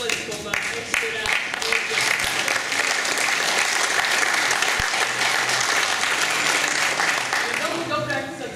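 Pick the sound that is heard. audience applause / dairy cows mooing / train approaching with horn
audience applause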